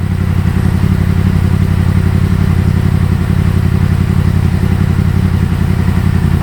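A Yamaha MT-10 SP motorcycle with a decat exhaust fires up and idles loudly and close, a steady deep throbbing engine note that holds with a fast pulsing rumble throughout, with no talk.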